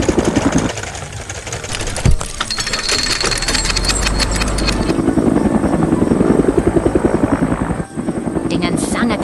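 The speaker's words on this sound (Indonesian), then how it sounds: "Sebuah helikopter merah datang untuk membantu mengangkat temuan bersejarah ini." A red helicopter comes in to lift a fossil find, its rotor and engine running loud and steady throughout alongside a dense mechanical rumble, with a brief dip partway through.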